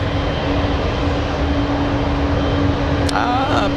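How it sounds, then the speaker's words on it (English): A Boeing 777 airliner taxis close by on a taxiway at San Francisco International Airport, its steady, loud engine roar filling the whole stretch, with a brief higher whine layered in near the end. "we have big 777 right next to us, taxiway Lima"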